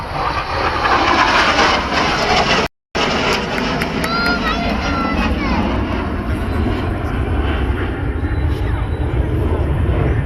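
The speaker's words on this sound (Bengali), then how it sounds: "সুধী মন্ডলী, inverted flight by the MiG-29" A MiG-29 jet flies inverted at low altitude during an Independence Day aircraft parade, its loud, steady roar filling the air and broken only by a brief gap, with distant crowd noise beneath.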